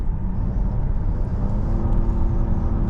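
A Nissan Qashqai e-Power pulls forward under throttle, giving a steady low hum and whir from inside the cabin that holds fairly constant, with faint tonal lines rising partway through and no talk.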